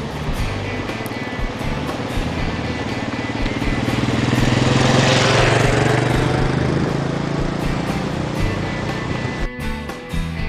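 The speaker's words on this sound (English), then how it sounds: "while the ATV went up and down the canal" An ATV drives along a canal. Its engine drone swells as it draws near and passes close around the middle, then eases off and fades.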